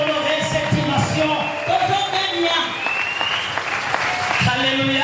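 A church congregation at a celebration service applauds and cheers, with clapping and crowd noise running steadily under a loud voice speaking over it throughout.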